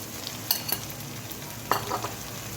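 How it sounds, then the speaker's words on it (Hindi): Frying onions in a pan as coconut and green chili paste goes in, a steady close sizzle with a couple of light stirring scrapes and clinks, no voices. "अब मैं इसमें ये सारा नारियल और हरी मिर्चों का पेस्ट ये डाल दीजिए"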